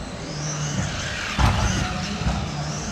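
A Predator X-25 4wd RC buggy runs on a track with turbo added, giving a steady whining motor drone with a louder surge midway, no talk.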